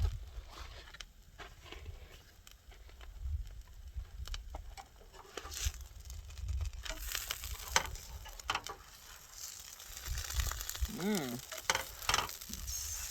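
Tortilla crisping in a pan on a stove inside a no-build minivan camper, with a steady close sizzle and frying crackle, light clatter and stirring scrapes throughout.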